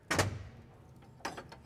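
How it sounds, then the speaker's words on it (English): The bottom door of a John Deere C Series air cart swings shut with a dull metal thud, then a second, lighter clunk about a second later as it settles or latches. "First, we want to close our bottom door here,"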